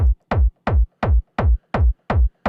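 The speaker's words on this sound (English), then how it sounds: "The kick drum is a very kind of thuddy, almost techno-like kick." A punchy, thuddy kick drum hitting alone in a steady four-on-the-floor pulse, eight deep booming beats with short tails.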